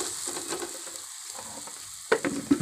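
Aloo paratha frying in ghee on a village dhaba-style griddle, a steady close sizzle that swells with a couple of sharp bursts as the flatbread is flipped onto its other side.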